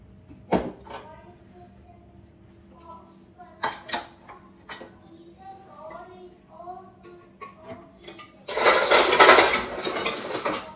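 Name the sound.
packing food into a lunch box, dishes clattering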